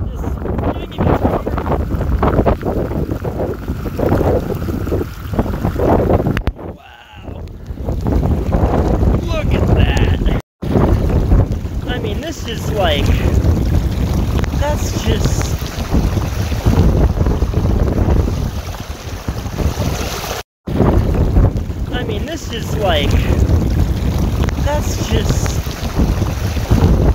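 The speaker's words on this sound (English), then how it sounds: "Oh, the wind is swinging me over." Strong storm wind gusting over churning water near San Diego, a loud continuous roar buffeting the microphone with splashing throughout; a person speaks intermittently beneath it.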